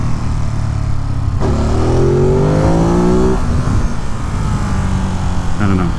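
A 2022 Ducati Monster Plus motorcycle accelerating hard in second gear, with a loud close engine rising steeply in pitch, then easing off and revving again near the end.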